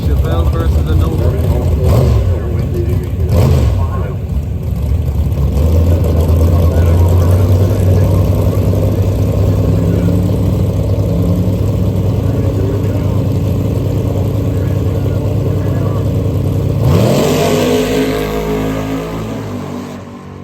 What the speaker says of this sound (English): This here is the second semifinal for the bracket racing. Chevelle versus the Nova.